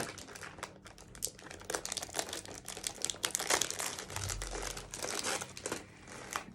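A plastic packet of pistachio cookies is torn and crinkled open up close, with dense, irregular rustling and crackling that runs steadily throughout with no talk.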